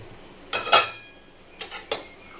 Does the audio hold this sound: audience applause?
no